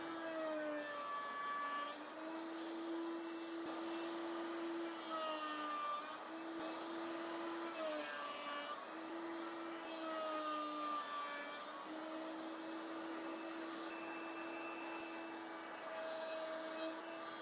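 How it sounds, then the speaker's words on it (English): A router on a router table shapes desk corners against a 3D printed template, a steady high motor whine with slight pitch dips as the bit bites into the wood, continuous and fairly quiet. "For the final shape of the corners I used a 3D printed routing template and my router table."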